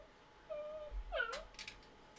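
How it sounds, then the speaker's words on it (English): A needy dog whimpers indoors, a thin rising whine followed by a few brief yips and whines, close and fairly faint over quiet room tone. "Lord, this dog drives me crazy."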